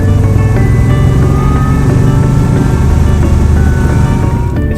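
A supercharged 600bhp Cobra replica rumbles along at speed, its engine a loud, continuous low roar with a steady droning tone throughout.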